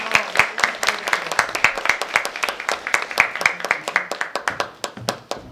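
Audience applause at a celebration of the International Day of Persons with Disabilities 2021 at an occupational therapy workshop in Michałów: dense, steady clapping from many hands, close and lively, gradually thinning toward the end.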